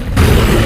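Orbital bombardment cannons blast a zombie horde, breaking in abruptly as a loud, dense, continuous booming rumble of explosions.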